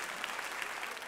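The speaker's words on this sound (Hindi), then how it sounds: "तालियां बजा देते हैं इस बार" Brief burst of audience clapping during a satirical news comedy show, a dense, even patter of many hands lasting about a second with no talk over it.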